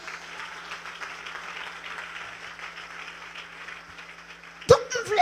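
A church congregation claps and cheers in praise of the Lord, a steady, moderately loud wash of applause heard from within the room, swelling with a sharper burst near the end, with a voice speaking over it.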